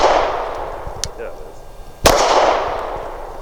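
Two sharp outdoor pistol shots from a Canik TP9 Elite SC fired with a long magazine, a small crack near the one-second mark followed by a much louder, fuller report about a second later that rings out and slowly decays.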